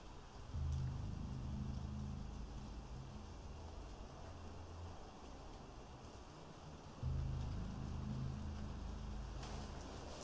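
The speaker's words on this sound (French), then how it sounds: "Il y a la pluie qui augmente par contre." Steady rain falls in an abandoned house, heard as a continuous wash of noise with a low rumbling hum that swells at the start and again about seven seconds in, with no talk.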